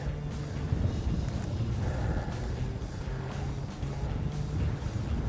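Gusty wind buffets across open water of a large reservoir with whitecaps, a broad rushing roar with low rumble from the microphone, steady and moderately loud.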